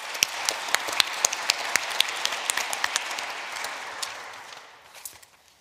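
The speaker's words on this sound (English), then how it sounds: "I really want to thank her and I want to applaud her, Julia Weiling in the back" A conference audience applauds in a full burst of clapping that is loud at first, then thins out and fades away near the end.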